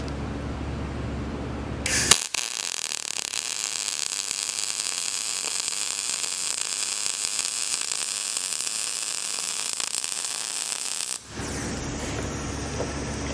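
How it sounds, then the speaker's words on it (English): MIG welding with a MIG 200i welder, a steady crackling hiss lasting about nine seconds that starts and stops abruptly, heard alone. "The weld we just did was fine"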